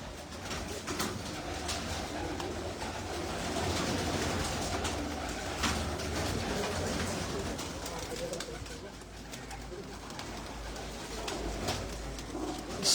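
Soft, repeated cooing of pigeons blends into a steady, dense background hum of many birds, continuous and fairly distant throughout.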